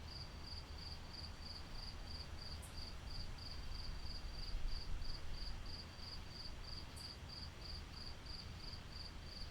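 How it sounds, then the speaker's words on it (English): Crickets chirp at night in a steady, even pulsing trill over a soft, continuous low rumble of outdoor ambience. No one speaks. "It's so nice that you can hear the frogs and the crickets."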